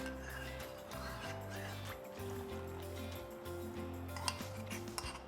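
Ginger juice with its settled sediment is stirred and poured into ginger rasam, giving soft utensil clinks and faint liquid sloshing that run steadily beneath background music.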